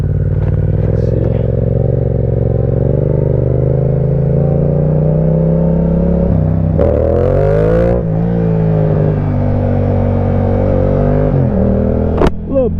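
Yamaha R7 sport motorcycle engine, loud and close, holding a steady drone before several sharp revs, one deep rising sweep, and a brief blip near the end.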